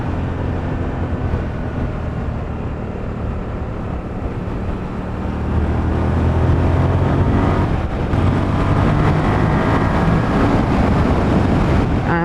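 A 24-year-old Suzuki SV650 S motorcycle being ridden, its engine droning low beneath heavy, continuous wind rush that swells louder partway through.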